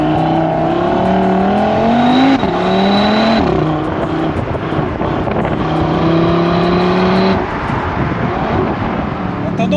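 A 2022 Audi RS3 engine revving hard in performance mode, loud and close, with rising and falling pitch sweeps and a continuous growling roar.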